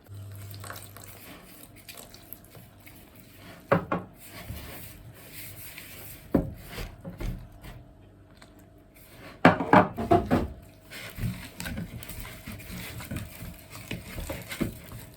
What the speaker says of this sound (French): Et commencer à mélanger avec de l'eau leste